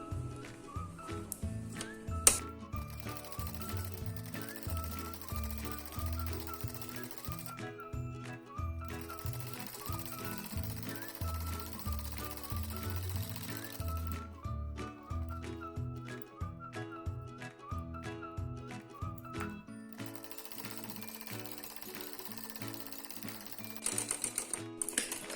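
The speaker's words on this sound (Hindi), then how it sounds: "अब इसके अंदर अंदर एक सिलाई हमें और लगानी है," Sewing machine stitching an inner decorative line on a salwar cuff design, running in a steady rhythmic whir with repeated stop-start bursts and short pauses, close and moderately loud throughout.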